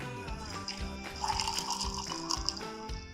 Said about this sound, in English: The bubbles coming out, the flavors coming out.